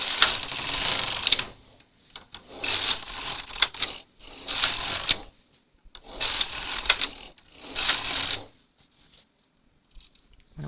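A Singer knitting machine carriage runs across its needle bed knitting 1x1 ribbing, giving four separate passes of raspy, clattering sliding sound with short silent gaps between them, close and fairly loud.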